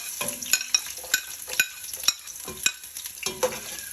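Garlic and onion sautéing in a pan for arroz caldo, a close sizzle punctuated by repeated sharp scrapes and clinks of a utensil stirring at an uneven rhythm.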